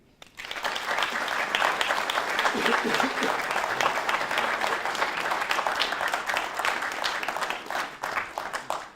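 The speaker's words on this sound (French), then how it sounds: "Je vois que les applaudissements sont nombreux" An audience at a French-language book presentation for Nina Pouchkova's novel breaks into loud, sustained applause, dense and even throughout, with a brief murmur of voices under the clapping.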